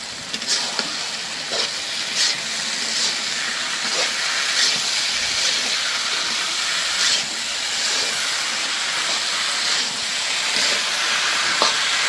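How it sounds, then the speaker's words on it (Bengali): Chickpeas tipped into a pan of spice paste that has been frying well, giving a steady, loud sizzling hiss with scattered soft clicks and pops throughout. "মশলাটা ভালো করে ভুনে নিলাম, এখন দিয়ে দিই ছোলা বুট।"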